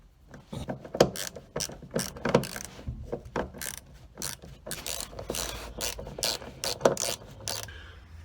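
Bolting in the parking brake cable on a 1956 Mercury brings repeated ratcheting clicks from a wrench, close and irregular, with metallic scrapes and handling noises between bursts.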